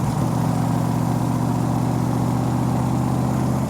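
A 1965 Backdraft Cobra with a Roush 427 engine drones loud and close under steady acceleration, a dense low rumble holding even pitch with a strong harmonic throb and no voices.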